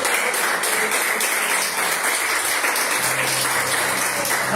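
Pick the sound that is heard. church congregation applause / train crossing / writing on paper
church congregation applause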